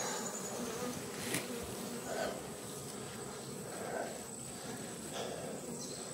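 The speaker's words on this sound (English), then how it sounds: "there's still a lot of bees on this side" Dense, continuous buzzing of many honey bees around an open-air colony close by, swelling and fading slightly as individual insects pass near.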